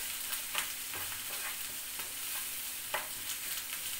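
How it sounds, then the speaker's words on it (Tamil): Large sliced onions sautéing in a pan for onion chutney, a steady close sizzle of frying with repeated scraping stirs of a spoon, no voices. "ஆனால் நல்லா வெங்காயம் வதங்கினாங்க"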